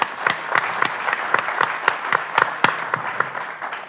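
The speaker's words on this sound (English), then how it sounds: "I'd just like a round of applause for our wonderful translators" A room of people applauds for a conference's translators, steady clapping of a modest audience with individual claps audible in a quick irregular rhythm, fairly close and continuous throughout.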